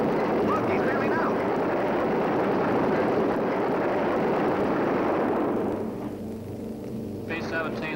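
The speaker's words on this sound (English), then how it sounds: "B-17 out of control at 3 o'clock." A B-17 Flying Fortress bomber, out of control in flight, gives a loud, dense engine roar that holds steady and then thins out near the end.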